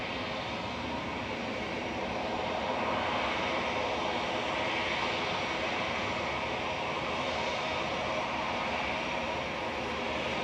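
A nine-year-old TUI Boeing 787-8 at Manchester Airport produces a steady, distant jet engine roar that stays even and unbroken across the whole stretch.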